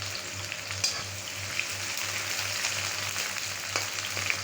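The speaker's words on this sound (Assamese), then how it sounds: "এয়া মই লৰাই দিছোঁ" Onion, garlic and ginger sizzle steadily in hot oil as they are stirred, with a few sharp scrapes and clicks of the spoon over a faint low hum.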